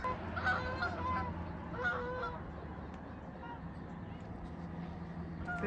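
Geese honking repeatedly, fairly close, with a few harsh calls standing out over a continuous background murmur that may include distant voices.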